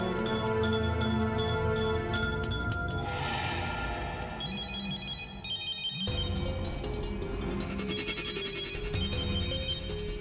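A ringtone from a mobile phone rings on and on, loud and continuous, with a layered electronic melody that keeps repeating over the whole stretch.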